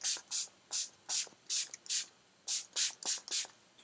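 Beauty Creations Flawless Day makeup setting spray misted from a pump bottle in about eleven short, sharp hissing spritzes, close and evenly spaced.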